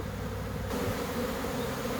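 A dense honeybee swarm hums in a continuous, close buzz with no voices.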